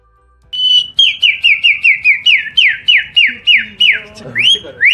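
Someone whistles a rapid series of falling, sweeping notes, about a dozen in steady rhythm, imitating a magpie-robin's song, loud and close.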